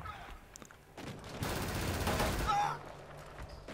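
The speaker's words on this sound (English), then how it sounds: "what's shooting me?" Gunfire bursts in Killzone multiplayer on PS4, a loud sustained volley of shots building in the middle and fading toward the end, with faint ambient game noise before and after.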